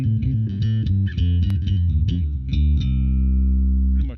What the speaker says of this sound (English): Pretty much just a standard bass tone